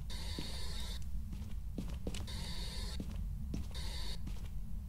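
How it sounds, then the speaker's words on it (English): A creaking door in the ghost-hunting game Phasmophobia, several drawn-out creaks repeating in bursts with short gaps and faint clicks between them, no voices. "I just heard a door."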